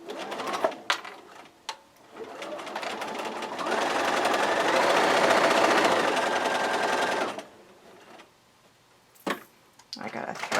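Home sewing machine stitching quilt pieces for a bricks quilt, a close steady mechanical whir running for about four seconds, framed by fabric handling clicks and rustles before and after.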